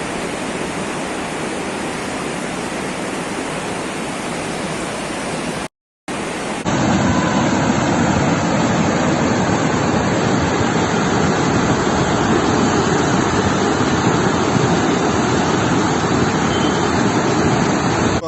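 A flash-flooded stream in Murgul, Artvin, rushes through the town centre as a loud, relentless torrent of roaring water, broken by a brief cut before the roar resumes even stronger, with no talk.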